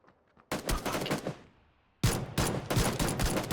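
Gunfire in the video game PlayerUnknown's Battlegrounds, heard as two loud, rapid automatic bursts separated by a brief lull, close and dense with no talk.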